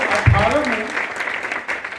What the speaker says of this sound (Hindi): इनको चाहूँगा इनके लिए एक बार जबरदस्त ताली हो जाए।